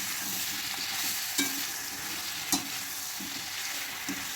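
Sliced brinjal fries in a pan with a continuous steady sizzle, while a spoon stirs it and scrapes the pan in a few soft, intermittent knocks.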